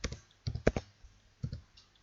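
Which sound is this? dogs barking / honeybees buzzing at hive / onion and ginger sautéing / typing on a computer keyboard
typing on a computer keyboard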